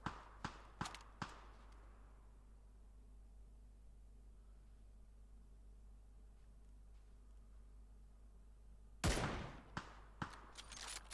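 Gunfire in an online shooter scrim match: a quick burst of sharp shots at the start, a quiet stretch, then another loud volley with a few trailing single shots, with no talk.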